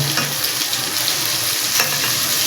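Hilsa fish fries in hot mustard oil with a loud, steady crackling sizzle that fills the whole stretch, close up and continuous, with faint scraping underneath and no one talking.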